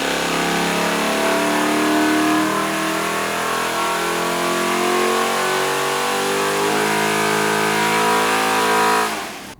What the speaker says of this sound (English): It's a freaking Edsel engine.